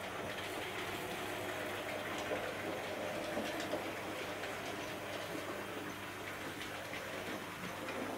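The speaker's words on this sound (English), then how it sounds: "You might just catch the loco going around the outer bend behind the trees." A Hattons P class SE & CR model locomotive runs on a layout track, a steady faint rolling clatter from the small train under a constant background hiss throughout.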